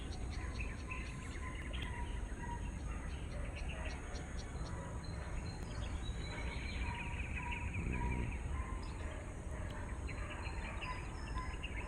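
Scattered bird chirps and calls ring out over a steady outdoor hum at a construction site, fairly distant, with insects buzzing faintly throughout.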